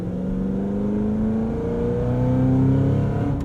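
Supercharged exhaust rumble from a Hennessey H1000 Cadillac CT5 Blackwing under way, a steady, loud, deep drone with rising engine tones as it accelerates from inside the car.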